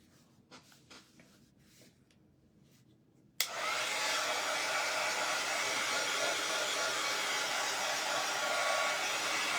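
Hair dryer switches on abruptly after a few faint rustles and roars steadily and close, blowing on wet paint on a large 15-inch wooden church birdhouse kit.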